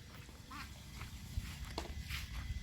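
Ducks quack in short scattered calls at a moderate distance, faint over a low rumbling outdoor background with occasional thumps.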